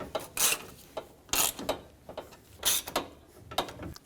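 A hand ratchet snugging up horn bolts on a 1996-2002 Toyota 4Runner: short bursts of clicking come in irregular spurts, close up and fairly quiet, with no voices.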